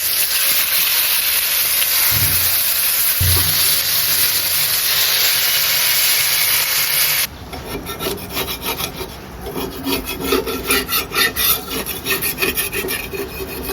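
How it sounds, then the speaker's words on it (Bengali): Marinated pieces fry in just a little oil on a well-used tawa pan, a steady close hiss at first giving way to a busier crackling sizzle with irregular pops and spits. "বিসমিল্লা ভাজা স্টার্ট করে দিলাম"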